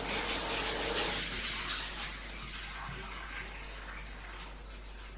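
Shower water running steadily, a loud broad hiss of spray that softens slightly after the first second or so and continues unbroken, with no voices.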